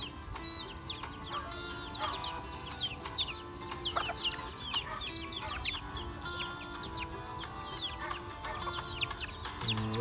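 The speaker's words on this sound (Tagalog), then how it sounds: "So ayun yung tandang." Native chickens and a rooster cluck continuously in a farmyard, with many overlapping short calls and chirps over steady low background noise, moderately near and quiet.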